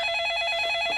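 A telephone rings with a steady electronic trilling tone, a rapid pulsing warble that is clear and continuous, with no voices over it.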